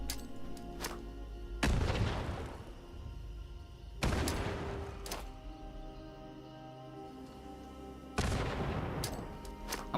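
An enemy fires shots in Fallout 76: three loud, separate gunshot blasts spaced a few seconds apart, each ringing out into a long decaying echo, with no talk over them.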